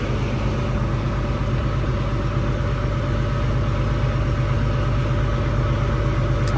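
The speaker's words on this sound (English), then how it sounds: "but I did just turn the truck on." A semi truck's diesel engine idles steadily after being started, a continuous loud low rumble that stays close and unchanging throughout.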